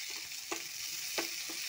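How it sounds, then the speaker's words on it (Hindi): Chopped ginger and garlic frying with browned onions in a pan, a steady bright hiss of sizzling oil with a few soft stirring scrapes, close and alone. "अब मैं इसमें बारीक कटी हुई अदरक डालूंगी"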